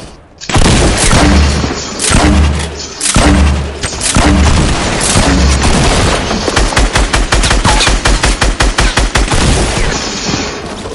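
Rapid, loud weapon fire in Fortnite: heavy booming blasts in the first half, then a fast burst of sharp repeated shots, all close and dense with no talk.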